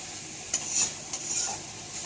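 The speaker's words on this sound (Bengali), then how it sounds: "এখন মশলাটা সুন্দর করে কষে নিব যতক্ষণ না মশলা থেকে তেল ছাড়ে" Spices with turmeric and salt stir-fry in oil for a fish recipe, a soft steady sizzle broken by a couple of brief spatula scrapes and pops, fairly quiet.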